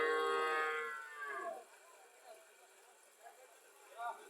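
A dairy cow at a cattle market in Mirmanni, Cumilla, lets out a loud, drawn-out moo, then quieter speech and soft market bustle follow.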